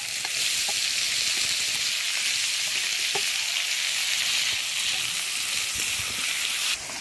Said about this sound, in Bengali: দিয়ে দেবো টমেটো আর পেঁয়াজ।